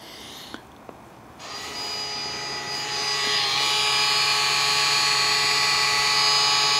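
Electronic parking brake motors on a 2010s-era Audi TT MK3 winding back during rear brake pad replacement, a few faint clicks and then a rising, steady electric whine that grows louder and holds, with no talk.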